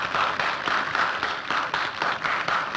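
A short burst of applause from a small group, with rhythmic pulses of clapping repeating evenly and held at a moderate, close level throughout, with no voices.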